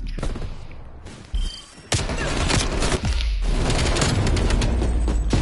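Call of Duty gunfire in a zombies match: sharp shots, then heavy sustained firing with thuds and booms layered in, loud and close throughout.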